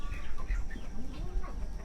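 Meat chickens on a homestead cluck softly and intermittently, close by, over a low steady background hum, with no clear talk.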